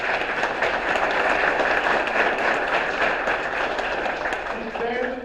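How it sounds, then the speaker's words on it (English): Audience at a city state-of-the-city address applauding the new fire chief: dense, steady clapping from a crowd in a hall, continuing throughout, with a voice coming in near the end. "I want y'all to give him a round of applause."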